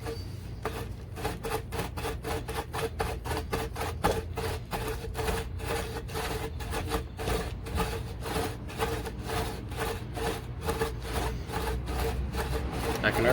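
Rhythmic back-and-forth rubbing of a primitive friction fire starter on wood, a steady series of dry, scratchy strokes repeating closely for the whole stretch at an even, moderate level.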